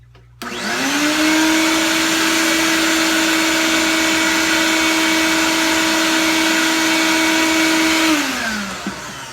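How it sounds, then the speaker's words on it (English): A vacuum cleaner starts up and runs loudly and steadily with a strong whine, sucking up scraped paint debris from an antique window frame, then winds down near the end. "each time I scrape, I go through and I vacuum it up"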